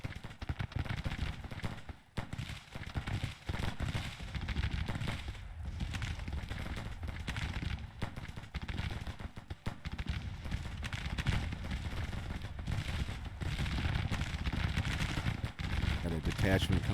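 Troops in the Civil War strategy game Grand Tactician fire a dense, continuous crackle of musketry and distant booms during an 1864 Confederate campaign battle, with a voice talking over the gunfire throughout.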